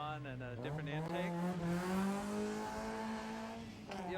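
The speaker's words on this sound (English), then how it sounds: "It's surging, yeah. It's surging at idle." An engine with a header and a new intake idles unevenly and surges up and down in pitch, close and steady, with a brief rev in the middle and people talking over it.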